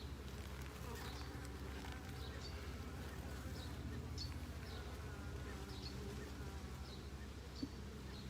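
Honey bees buzzing around a mini mating nuc, a dense, steady hum of many insects close by, with a few individual bees whining past.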